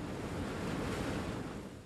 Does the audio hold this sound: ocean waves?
yes